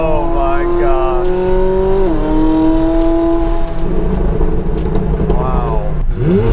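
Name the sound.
supercar engine revving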